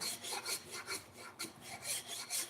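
A coarse rasp file meant for fiberglass bodywork scrapes in steady back-and-forth strokes, about ten quick rasping passes, each with a gritty hiss, close and moderately quiet with no voices.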